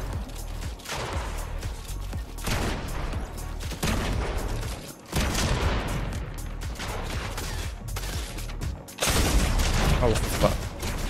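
Shotgun blasts in Fortnite during a shotgun-only match, heavy booming shots fired in bursts at irregular intervals across the clip, each with a deep thump.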